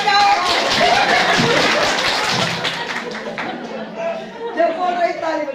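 Village gathering audience clapping: dense applause at the start under chatter, thinning after a few seconds into scattered claps and crowd voices.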